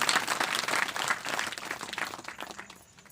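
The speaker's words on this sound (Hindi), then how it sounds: "जरा ताली बजाओ जो कुंभकर्ण नहीं है।" An audience claps together at a religious storytelling gathering, dense steady applause that fills the moment and then fades toward the end.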